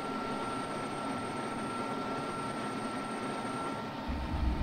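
A jet afterburner engaging in the Falcon BMS flight simulator, heard as a steady, moderately loud engine roar with a thin high whine. The roar swells slightly toward the end. No one speaks.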